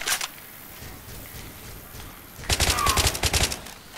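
Rapid bursts of gunfire from Left 4 Dead 2 on a hard-difficulty survival map, a single shot at the start followed by a dense, loud volley of repeated shots in quick rhythm near the end, with no talk over it.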